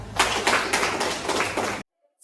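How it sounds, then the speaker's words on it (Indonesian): A classroom of students applauds, with dense, steady hand clapping from a group close by that lasts under two seconds and then cuts off abruptly into silence. "Tepuk tangan untuk Tiara."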